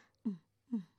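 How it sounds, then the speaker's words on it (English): A sleeping panda snores close by in two slow, soft breaths with a quiet pause between, and a third breath starting at the end. "Punch is snoring!"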